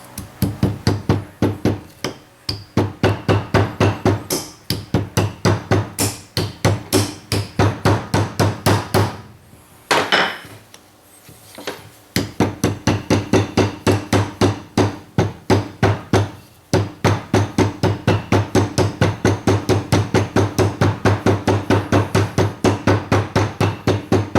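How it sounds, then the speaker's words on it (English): Rapid, steady plastic hammer taps on a ring fitted to a 2007 Ford Ka rear brake drum ring out close up in long runs, pausing briefly before the rhythmic tapping resumes. "one plastic hammer, nice and gently. Give it a tap."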